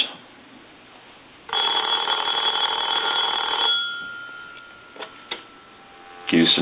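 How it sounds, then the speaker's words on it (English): A clear Radio Shack Trimline telephone on a test analyzer gives one loud, sustained electronic ring burst, followed by a faint tone and a few sharp clicks. "Give it a couple of rings."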